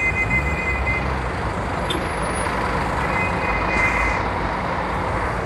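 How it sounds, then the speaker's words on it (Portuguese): An Expresso de Prata bus pulling out of the Novo Rio terminal in Rio de Janeiro, a steady diesel rumble mixed with dense traffic noise and a brief high hiss, continuous and fairly loud, with no talk. "Expresso de prata na Novo Rio."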